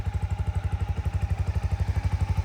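Factory-stock 2018 Honda CB300R motorcycle engine idling close by with a steady, even low thumping pulse throughout, no voices.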